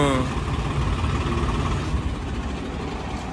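A tractor engine rumbles steadily close by, a low continuous chug that holds for the whole stretch, with a brief voice at the very start.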